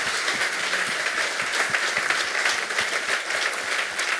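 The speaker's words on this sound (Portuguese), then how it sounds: "Quem pode dar um aplauso para esse Deus maravilhoso que nós servimos?" A church congregation at Igreja Nova Aliança in Londrina, Brazil, breaks into loud, sustained applause, with dense overlapping claps filling the room evenly throughout.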